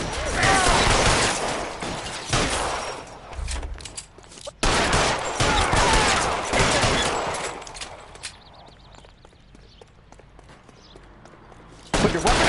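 Gunfire crackles in L.A. Noire during a shootout, loud bursts of rapid shots and crashes coming in waves, quieting briefly near the end before another burst.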